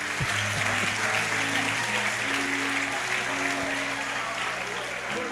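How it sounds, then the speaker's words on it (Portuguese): Church audience applauding, sustained dense clapping under a low organ or keyboard drone, with voices mixed in throughout. "Aplauda Jesus aí"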